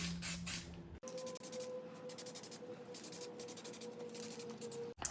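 Short bursts of aerosol Plasti Dip in white misting onto a car wheel, soft hissy spurts repeating close by over a steady background hum, with no talking.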